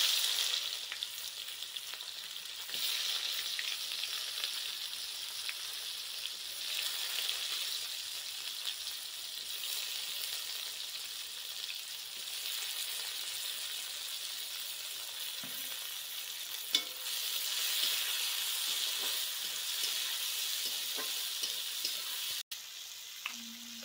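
Chopped onions frying in hot oil with crushed cinnamon, cloves and cardamom, a steady close sizzle running throughout, broken by occasional scrapes and knocks of stirring.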